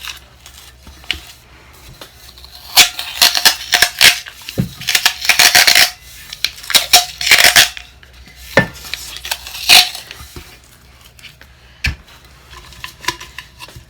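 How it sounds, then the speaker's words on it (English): Paper taped onto a 20oz skinny tumbler for sublimation: close, irregular bursts of tape ripping and crinkling, with sharp knocks and clinks of the metal cup being handled between quieter pauses. "press our tape down on the inside of the cup. Make sure it's sealed up good."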